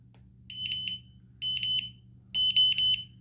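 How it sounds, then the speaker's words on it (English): Three bursts of shrill electronic beeping from a dog training collar remote, each a quick cluster of high tones, repeating about once a second against a quiet hum. "But I want to demonstrate the beep."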